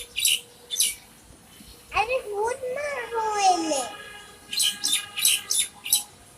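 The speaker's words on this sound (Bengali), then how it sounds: "এখানে শালিক পাখির ডাক।" Common mynas chatter and call outdoors during light rain, a run of close, squawking and warbling notes mixed with sharp chirps, with a person heard talking alongside.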